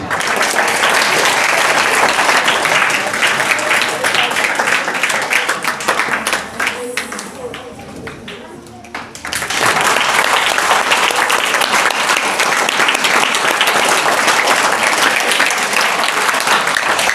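Sustained audience applause at a school farewell day celebration, welcoming Haroon sir, a teacher and accountant, to the stage; loud dense clapping that dips briefly midway, then swells again and continues steadily to the end.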